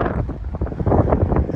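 Strong wind buffets the microphone during brush fires threatening homes in Golden Gate, Florida, a loud, continuous rumbling roar with gusty swells and no voices.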